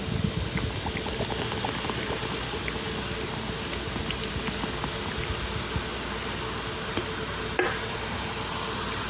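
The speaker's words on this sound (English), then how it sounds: "I'm making a glaze for the spiral ham, and it has 2 ingredients, a cup of brown sugar and 12 ounces of Coca-Cola" A glaze of brown sugar and Coca-Cola for a spiral ham boils steadily in a pan, a continuous bubbling hiss with one sharper pop near the end and no talk.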